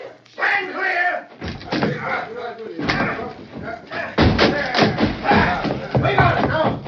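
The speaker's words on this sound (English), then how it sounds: "Open up or bust in the door." In a 1944 Lone Ranger radio drama, a door is busted in as a sound effect: heavy slams and thuds strike repeatedly while several voices talk over the noise.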